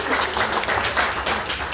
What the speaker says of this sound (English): big round of applause for Reena